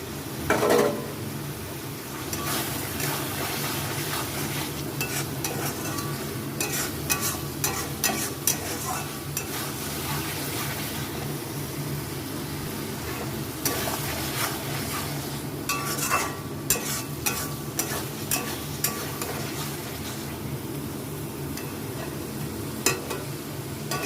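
Fried potatoes tumbled into a pan of cooked-down spice paste for an egg omelette and potato curry, sizzling steadily while a spatula stirs and scrapes with scattered clinks, close and continuous.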